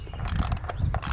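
A ratchet with an E7 Torx socket clicks quickly in short bursts while loosening ignition coil hold-downs on a BMW 550i engine, close and crisp.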